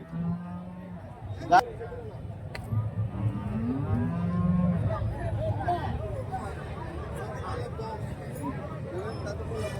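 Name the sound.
cow mooing at cattle market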